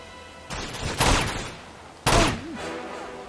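Gunfire from the action game Uncharted 2: Among Thieves in a train yard, heard as loud bursts of shots, one near the start, a heavier one around a second in and another two seconds in, each trailing off between volleys.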